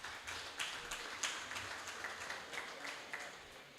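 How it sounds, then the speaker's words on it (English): An audience at a party annual general meeting gives a faint, distant round of applause, scattered claps pattering steadily throughout. "I want you to give them a round of applause"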